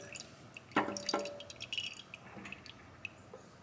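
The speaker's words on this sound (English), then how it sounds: "I'm gonna pour the bacon fat right into my jar where I store my bacon." Hot bacon fat pours from a pan into a glass storage jar in a home kitchen, with a brief glassy clink, then soft dripping and trickling liquid sounds, close and fairly quiet.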